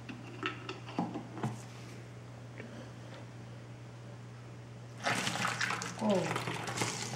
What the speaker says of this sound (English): Now I shall pour the hydrogen peroxide in.